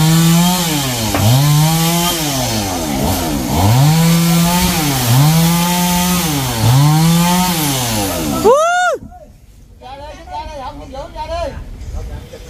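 A chainsaw cuts into a large mango tree, its engine surging in a steady cycle of revs that rise and fall as it bites into the wood, loud and close. It then stops abruptly and leaves quieter background noise.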